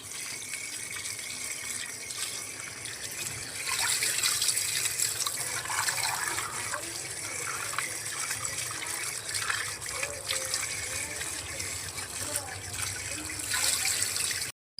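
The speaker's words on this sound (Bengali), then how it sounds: "ভর্তা করার জন্য প্রথমে আমগুলোকে ভালোভাবে ধুয়ে নিচ্ছি।" Ripe mangoes are washed under a running tap, with water gushing and splashing steadily into a sink for about fifteen seconds and the fruit being handled now and then.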